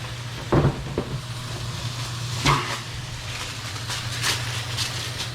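Chicken fajitas and vegetables sear in a hot pan with a steady, close sizzle and hiss, broken by a few soft clunks and scrapes.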